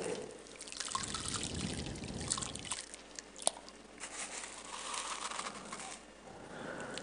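Coarse rock salt poured into water, giving a close, continuous trickling and splashing patter with one sharp clink near the middle, with no talking.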